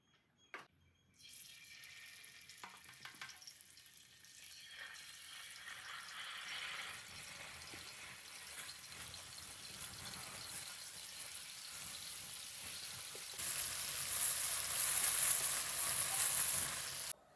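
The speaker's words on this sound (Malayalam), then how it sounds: "മീൻ വറക്കട്ടെ മോനെ" Fish sizzles as it fries in hot coconut oil, starting quiet after a few clicks and building into a steady close crackling hiss that swells louder toward the end.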